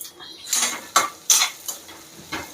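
Cashews, chana dal, curry leaves and fresh coconut frying in a pan for a tempering, with about five sharp metal spoon scrapes and clinks against the pan at an uneven rhythm, close and fairly loud, no talking.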